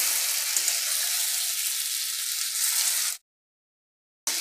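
Cumin paste, tomato paste and turmeric fry in hot oil for a Bengali falui fish curry, giving a loud, steady sizzle that cuts out abruptly for about a second, then resumes.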